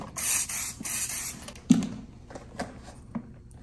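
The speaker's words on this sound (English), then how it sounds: "just classic waterproofing spray" Short hissing bursts of classic waterproofing spray from an aerosol can hit a pair of custom lineman climbing boots, two long sprays up close, followed by a few light knocks and handling sounds.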